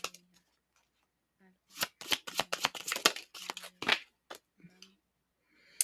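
A deck of tarot cards shuffled by hand before drawing one, a quick cluster of close, crisp riffling snaps after a quiet start, with faint scattered handling clicks around it.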